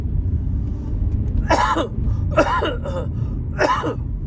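Three or four harsh, raspy coughs in close succession sound near the microphone over a low rumbling background.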